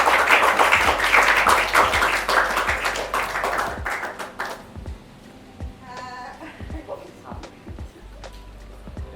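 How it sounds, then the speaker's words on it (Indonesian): Audience applause on an Indonesian campus TV talk show greeting the guest speakers, a dense burst of clapping that thins out after a few seconds into scattered taps, with voices talking over it. "Beri tepuk tangannya pemirsa."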